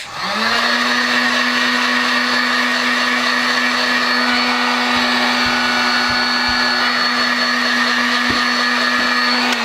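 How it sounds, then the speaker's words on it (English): A heat gun blasts air onto fabric covered in tape, kicking in with a loud, steady electric whine and rushing airflow that holds constant throughout, with a few faint clicks underneath. "I'm gonna use my heat gun to make sure that the adhesive really gets into the fabric and this tape doesn't move"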